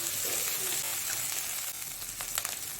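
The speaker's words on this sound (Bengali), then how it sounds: "আদা রসুনটাকে একটু ভালো করে ভেজে নেবো" Ginger and garlic frying in a pan for a spicy Bengali koi fish curry, a steady close sizzle with faint scraping and stirring and no talk over it.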